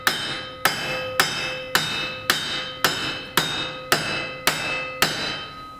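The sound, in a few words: hammer tapping rudder assembly on wooden boat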